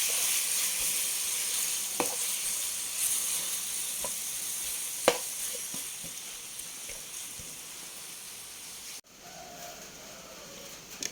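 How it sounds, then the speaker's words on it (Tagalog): Beef pieces sizzle steadily in a hot pan for a beef-with-mushrooms dish, a constant bright frying hiss with occasional sharp pops and clinks, briefly dipping near the end before resuming. "Lagay ko na yung ating beef."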